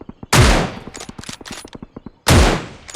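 Two heavy, booming sniper rifle shots from a DSR in a video game ring out loud and close, a couple of seconds apart, with quieter clicking and game sounds in between.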